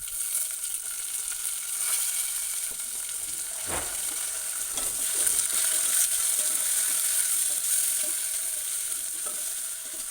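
Onions fry in a pan for a mutton head curry, a continuous close sizzle with scraping stirs, including one sharp clatter, and no voices.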